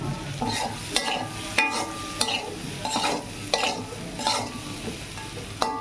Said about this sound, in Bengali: পটল আলু পেঁয়াজ ভাজাটা হয়ে গেছে